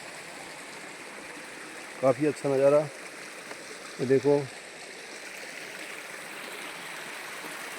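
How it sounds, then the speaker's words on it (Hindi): Water from a stream flows out of sight below a viewpoint in Uttarakhand, a steady soft rushing that runs throughout, with someone speaking briefly over it twice. "इस तरीके का यहाँ आवाज़ आती है पानी की, जो ऊपर से दिख नहीं रहा है, लेकिन नीचे यहाँ पर पानी बह रहा है"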